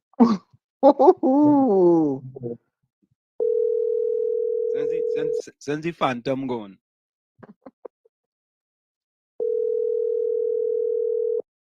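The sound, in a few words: telephone call ringing out, not answered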